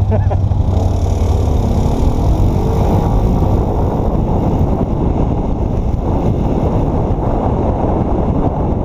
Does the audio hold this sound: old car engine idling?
yes